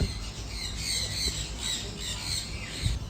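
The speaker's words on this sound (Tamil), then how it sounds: "இங்கே பாருங்கள் கிளி எவ்வளோ பெரிய கிளி" A large parrot at a Bangkok market gives a harsh, sustained squawk up close, rasping and loud, with a faint rustle near the end.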